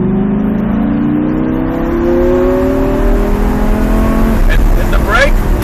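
A Lamborghini accelerating hard at full throttle, its engine note climbing steadily in pitch as it revs, loud and close throughout, with a brief sharper burst near the end.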